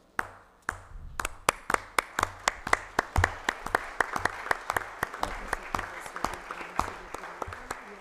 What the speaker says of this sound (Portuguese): Vocês merecem nosso aplauso